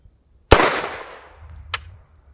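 A single sharp, loud gunshot cracks nearby outdoors and rings off, followed about a second later by a fainter second report.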